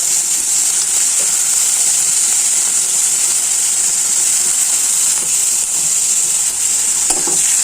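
Brinjal and cut garlic cloves hitting hot oil in a pan, a loud, steady, close hiss and sizzle that holds evenly throughout, with faint stirring knocks near the end.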